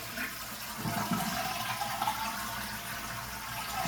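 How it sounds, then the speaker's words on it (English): A household toilet flushes after its chain is pulled up, close by, as a continuous gushing, swirling rush of water that swells slightly midway and keeps running to the end. "So if you pull up on the chain, it releases the water."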